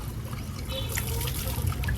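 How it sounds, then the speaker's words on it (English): Hydrothermal water trickles steadily from the Fonte dos Macacos fountain in Poços de Caldas, a close, continuous liquid splash running over a low rumble, with no voices. "they want you to come to this fountain here. It's called Fonte dos Macacos. You basically come here and put your hand and just feel the water."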